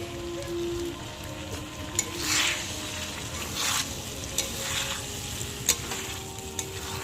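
Pointed gourd gets stirred with yogurt and spices in a pan, a soft continuous sizzle broken by a few brief scraping strokes and light clinks, with no talking.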